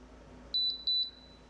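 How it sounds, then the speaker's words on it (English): An HID Signo mobile access reader gives two short pairs of high electronic beeps, clear but fairly quiet over a faint room hum. "Beep, beep."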